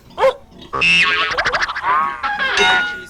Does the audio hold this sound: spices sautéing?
no